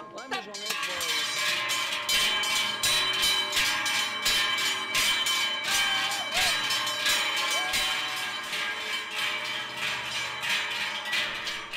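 Many handheld cowbells ringing together in a folk procession in the Chablais, imitating a cattle herd's transhumance; a dense, continuous clanging wash that stays loud throughout.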